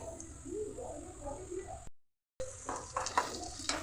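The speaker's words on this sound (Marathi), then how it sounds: "त्याच्यामध्ये मी हे कोथिंबीर, पुदिना आणि टोमॅटो आणि लसणाची पेस्ट करून घेतली आहे, ती मी टाकते" Onion masala frying in a pan with a paste of coriander, mint, tomato and garlic added, giving a soft sizzle and stirring, broken by a brief silent gap and followed by a few clinks.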